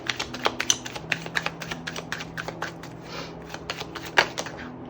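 Tarot cards are shuffled by hand in quick, irregular riffles and taps. The close, crisp flutters come in rapid succession.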